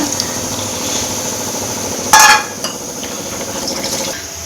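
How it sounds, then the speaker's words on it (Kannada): Water splashes into a pot of masala curry in a short, bright burst midway, with faint clinks and a low kitchen hum before and after. "ಸ್ವಲ್ಪ ನೀರು ಹಾಕಕತ್ತೆ ನಾನು ಇವಾಗ"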